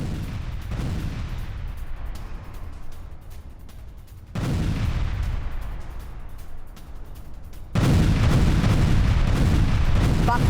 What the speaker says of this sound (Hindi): यूक्रेन का आर्टिलरी ग्रेनेड लॉन्चर से यह हमला।